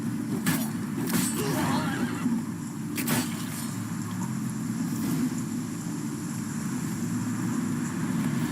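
Roach, Geralt's horse in the video game The Witcher 3, neighs and whinnies in a few sharp bursts over a constant low rumbling background, with no speech.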